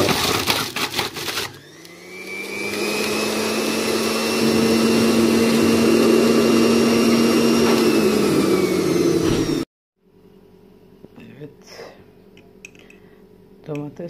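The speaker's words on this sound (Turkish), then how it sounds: "ben tortusunu istemediğim için katı meyve sıkacağına sıktım" An electric juicer grinds tomatoes with a loud, steady motor whine and whirring pulp for several seconds, then cuts off abruptly into a quieter room with light clatter.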